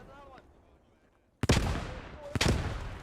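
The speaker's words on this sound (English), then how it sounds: "The MG fire doing an excellent job covering the approach of this German squad" Loud machine gun fire and rifle shots in a Post Scriptum WWII game battle, a quiet lull then sudden sustained bursts with two sharp reports, close and dense.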